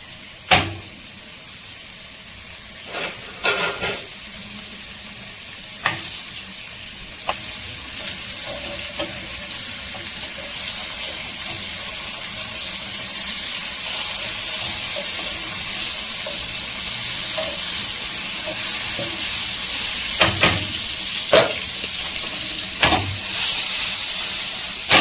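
Paneer simmering in butter in a pan over a high flame, a steady hiss and sizzle that grows slightly louder across the stretch, with a few sharp utensil clinks and taps, no talking.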